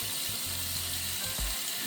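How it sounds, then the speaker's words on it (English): Cold tap water runs steadily into a kitchen sink, a continuous hiss and splash close by, with a few low knocks and clunks under the flow. "we're going to fill the sink with very cold water"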